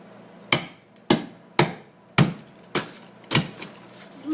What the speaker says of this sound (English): Bust that drywall up.